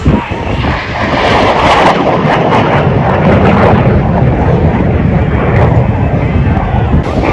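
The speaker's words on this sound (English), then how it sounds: "Here he comes for a high-speed pass." An airplane makes a high-speed pass at the AERO Gatineau-Ottawa 2023 airshow, a loud sustained engine roar that holds strongly close by for several seconds, mixed with wind rumble.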